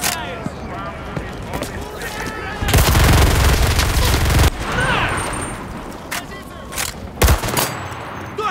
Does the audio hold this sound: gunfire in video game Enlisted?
yes